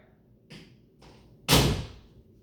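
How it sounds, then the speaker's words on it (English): An interior door is pushed shut, with two soft thuds followed by a single loud, close slam that rings out briefly. "Close the door."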